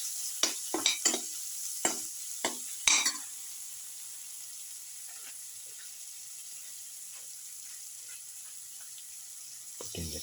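A utensil stirs and mixes egg, green bean and rice with salt in a pan, a cluster of sharp scrapes and clicks at the start followed by a quiet, steady hiss, with one more scrape at the end.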